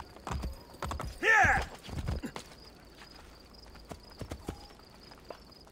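A horse in the Assassin's Creed Brotherhood video game whinnies loudly and near amid hoof clip-clops, then quiet game ambience with scattered steps follows, and a brief shout comes from a voice.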